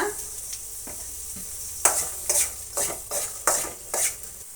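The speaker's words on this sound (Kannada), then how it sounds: "ಇದನ್ನು ಒಂದು 2 ನಿಮಿಷ ಫ್ರೈ ಮಾಡೋಣ." Finely chopped beetroot fries in a pan while a spoon stirs it in regular scraping strokes, each stroke a sharp hiss above a steady low sizzle, heard up close.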